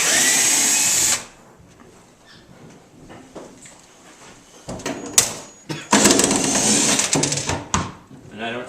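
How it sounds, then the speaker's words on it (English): A power drill backs screws out of a kitchen cabinet during demolition, sounding in loud whirring bursts at the start and again near the end, with quieter handling noise and rustling in between. "I am going to both unscrew this and support this in the event that this is the last screw"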